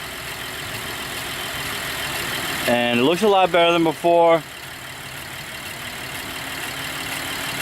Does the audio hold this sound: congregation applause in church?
no